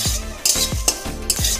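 Spices frying in a pan over a medium flame, a steady sizzle broken by four sharp scrapes of a spoon stirring against the pan at a regular rhythm, close and fairly loud with no voices.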